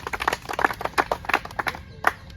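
An audience at an Agniveer army recruitment gathering claps for a young man, a brisk run of uneven handclaps in a short burst that thins out toward the end.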